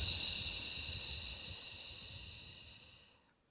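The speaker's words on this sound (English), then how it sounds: "and then we breathe out through the mouth, lips pouted." A slow, steady exhalation through pouted lips during a guided breathing exercise, a soft airy hiss that holds evenly for about three seconds before trailing off into near silence, close and quiet with no talking.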